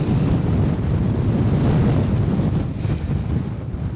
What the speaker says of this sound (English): Reckon the winds are strengthening, showing up to 37 knots now